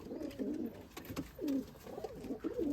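Old-line pigeons at a friend's house coo softly and close by, a few rolling, throaty calls repeating in short bursts over a quiet background.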